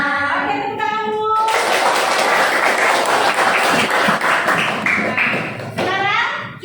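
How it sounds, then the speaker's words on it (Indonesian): Classroom applause during a peer-teaching session, a burst of clapping from a small group that swells after a brief spoken intro and fades as a voice returns at the end. "tepuk tangan dulu"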